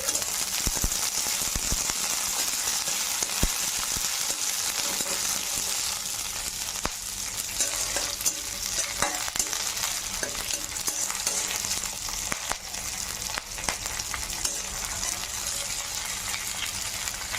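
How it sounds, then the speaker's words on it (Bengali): Garlic and green chilies frying in a pan while cooking bottle gourd leaf chutney, a continuous close sizzle with intermittent spatula stirs and scrapes throughout. "ভাজি করে নিতে হবে সুন্দর করে।"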